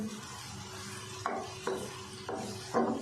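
Onions fry in a pan, turning golden at the edges, a soft steady sizzle broken by four evenly spaced scraping strokes of a spoon stirring them.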